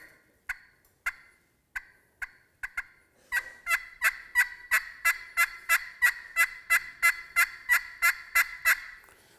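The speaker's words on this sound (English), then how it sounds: "So you want to do some yelps and clucks together." Turkey calls: a few spaced single clucks, then a fast run of rhythmic yelps, loud and close with no other sound around them.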